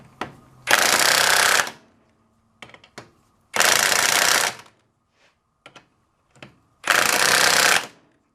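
A Ridgid impact driver drives fasteners in three loud, close bursts of rapid hammering, about a second each, separated by quiet gaps with small clicks and handling noises.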